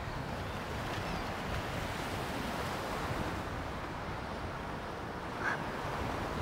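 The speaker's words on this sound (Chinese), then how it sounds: "送给你，这里面有大海的声音。" A soft, steady rushing like distant ocean surf fills a seashell held to the ear, a low continuous roar with no voices.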